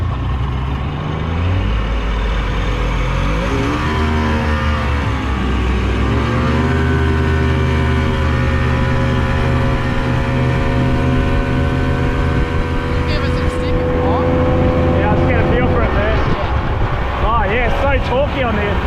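A fast inflatable rubber boat's engine roars steadily and loudly throughout, pitch sweeping up and down as the throttle is worked, with rushing water and wind; people talk over it.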